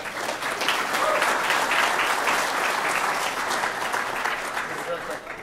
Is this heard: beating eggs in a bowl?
no